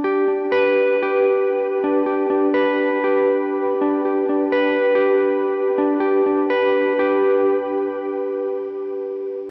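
Single-chord worship electric guitar part, notes picked one by one in steady tempo through reverb, delay and light overdrive, each note blending into a continuous shimmering wash with no talking.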